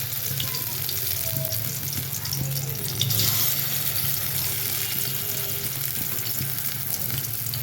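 Shrimp fritters sizzle steadily in hot oil in a well-seasoned wok, a dense, continuous crackle close by with faint scraping stirs and a brief louder burst midway.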